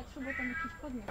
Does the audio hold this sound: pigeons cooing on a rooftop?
no